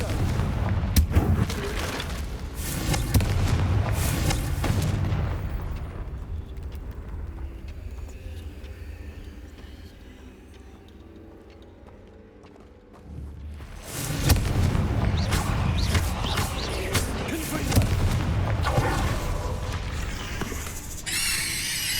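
Confringo fire-spell explosions from the video game Hogwarts Legacy, loud booming blasts with crackling debris that rumble for several seconds, fade to a quieter lull, then return as another heavy run of explosive roars.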